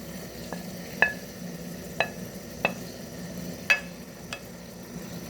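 Minced garlic is added to onions already frying in a pan for Moroccan tektouka with peppers and tomatoes. A steady close sizzle runs throughout, broken by a few sharp clicks of stirring.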